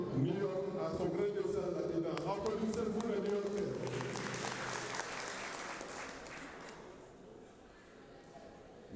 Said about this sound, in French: Applaudissez-vous les New-Yorkais.